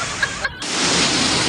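Heavy monsoon rain and water rushing hard downhill in a loud continuous roar, with a couple of brief faint sounds and a momentary dip early on.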